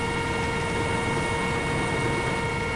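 A helicopter in a realistic military video game, heard from the back of the cabin as a constant, dense engine and rotor drone with steady humming tones, loud and unbroken.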